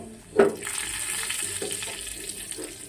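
Cumin seeds and finely chopped ginger sizzle in hot ghee, a soft, steady frying hiss that follows a single clatter as they hit the pan.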